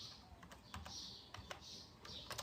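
Someone types on a computer keyboard while building a SQL Server database table, with quick, quiet bursts of key clicks and brief pauses between them.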